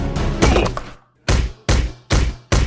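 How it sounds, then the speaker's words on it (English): Hard plastic bat repeatedly whacking a dog's chew toy, giving four separate thuds: one muffled thump over mixed background, then three sharp, loud knocks at a steady pace. "So I then beat him with this bat."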